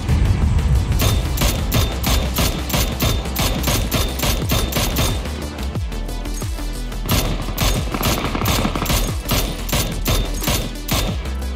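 Rapid gunfire in PUBG, loud dense volleys of sharp shots crackling almost continuously with heavy thumps, an intense automatic-weapon firefight heard close, no talking.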